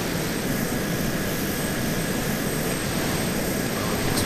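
Steady, loud jet engine roar from a fixed-wing plane in the Arma 2 video game, a constant broadband rush with a thin high whine running through, unbroken and close throughout.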